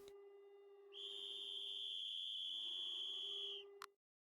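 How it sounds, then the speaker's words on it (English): An emergency whistle sounds in the MINDHACK video game: one shrill, sustained high whistle holds for about three seconds, then cuts off abruptly. It is fairly faint, with no other sound around it. "That sound. It's the emergency whistle."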